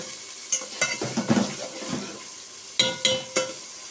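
Masala for chana rice frying and being stirred in a pot, with a soft sizzle beneath sharp metallic scrapes and clinks of a spoon against the pot, coming in two bursts.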